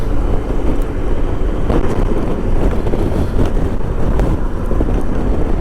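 Strong wind buffets a rider on a 1994 Honda ST1100 Pan European motorcycle, a loud constant roar of rushing air and microphone buffeting, with no speech.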